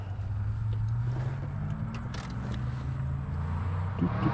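A touring motorcycle heads out for a ride on a fall day, its engine droning steadily and continuously, with wind rush over the top.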